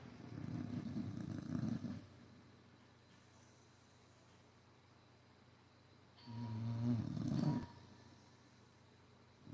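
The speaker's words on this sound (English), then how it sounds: "snoring like a grown man" A sleeping dog snores close by in a quiet room, two long, low rumbling breaths several seconds apart with near silence between them.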